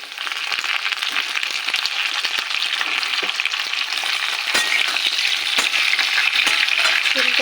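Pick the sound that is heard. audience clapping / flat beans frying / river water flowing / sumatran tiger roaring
flat beans frying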